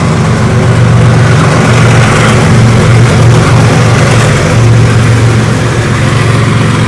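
A freight train hauled by a WAG-class locomotive passes through Hadapsar station in Pune, a loud, steady low engine drone and rumble that holds throughout without pause.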